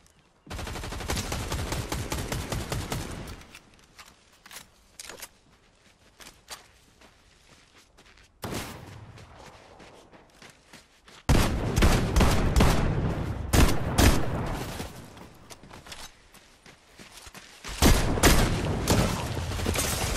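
Bursts of rapid gunfire in a ranked video game match crackle in volleys, some distant and some close and loud, with footsteps in between.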